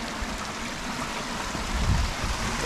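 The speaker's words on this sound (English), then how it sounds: "look at that waterfall" Rainwater waterfall pouring through a food forest, a continuous broadband rushing roar, close and steady, with a slight swell near the end.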